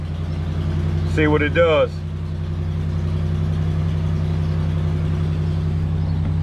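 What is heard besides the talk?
2009 Hemi Ram truck engine idling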